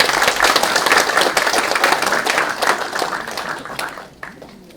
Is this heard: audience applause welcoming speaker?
yes